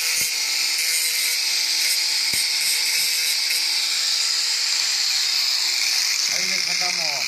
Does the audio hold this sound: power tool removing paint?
yes